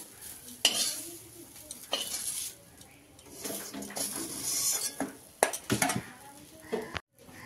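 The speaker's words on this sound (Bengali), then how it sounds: "এই যে এই বেগুনটা ভাজা হয়ে গেছে।" Brinjal fries in a pan with a soft sizzle while a utensil scrapes and clatters against the metal in irregular bursts of stirring, with a brief quiet gap near the end.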